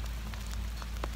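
Heavy rain pours down on a wet, muddy field, a steady close hiss with scattered drop impacts and a low rumble, no voices.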